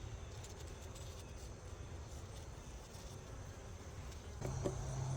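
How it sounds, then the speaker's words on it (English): A steady, faint swarm of honey bees hums continuously in the background at a hive, buzzing evenly throughout with a slight rise near the end. "Get rid of some of these bees."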